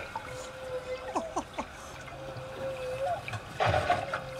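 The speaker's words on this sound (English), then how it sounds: "One animal is making that sound" A single humpback whale calls during bubble-net feeding, heard through an underwater hydrophone as a drawn-out steady tone broken by quick rising sweeps, with a burst of bubbly rumble toward the close.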